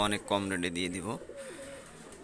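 A red-eyed female pigeon gives a short, low coo, heard just after someone speaks close by.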